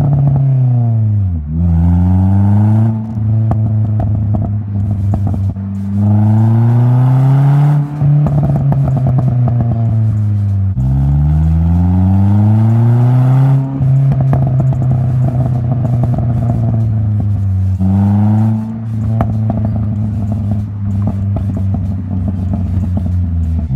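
A Renault Sport Sandero with a 145-horsepower engine accelerates hard through several gears, loud rising engine revs repeatedly climbing then dropping at each shift, close and clear with no talk.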